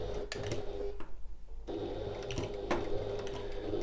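A sewing machine top-stitches along the edge of a satchel, running in a steady mechanical whir that stops briefly and then resumes. The stitching stays close and fairly loud, with no talking.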